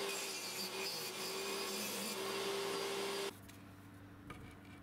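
Bandsaw cutting thin oak strips to length, a loud, steady whine with rough cutting noise for about three seconds, then dropping abruptly to a quieter idling hum with a small knock.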